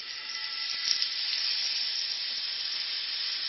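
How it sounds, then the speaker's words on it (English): Cajun catfish fillets sizzle steadily in a hot oiled pan, a loud, even frying hiss that carries on without a break and with no one speaking. "And here it sizzles"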